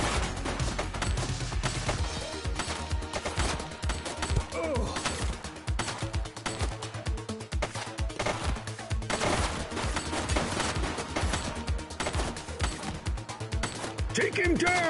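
Gunfire in the police game The Precinct: dense, rapid automatic bursts and scattered shots across the whole stretch, mixed with mechanical clatter and a steady low hum, with voices speaking at times.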